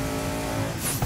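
A twin-turbo widebody Audi R8 engine revs hard toward 8,000 rpm under strained traction, a loud, close, rising mechanical howl with a sharp burst near the end.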